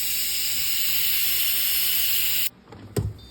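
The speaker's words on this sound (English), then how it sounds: "the pressure cooker's done. I'm gonna let it steam out." Pressure cooker releasing steam after cooking, a loud steady hiss that runs for a couple of seconds and then cuts off abruptly, followed by a few small clatters.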